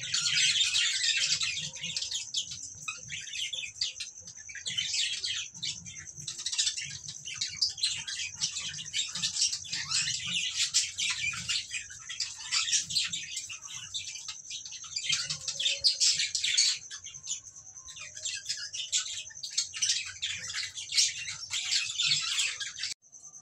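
Budgerigars fill an aviary with dense, nonstop chirping and twittering, a bright, busy chorus from many birds that holds steady throughout with no pauses.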